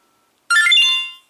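An RF-V16 GPS tracker gives one short, close, bright electronic bleep-melody after silence when its S button is held, then the tone fades away.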